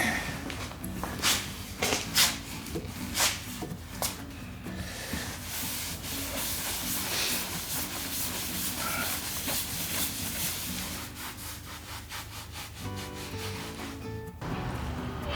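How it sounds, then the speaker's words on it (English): Repeated soft rubbing and wiping strokes across a giant glass tabletop being buffed to a shine, close and fairly quiet with no talking. "I wipe it down once, then again, really buffing it."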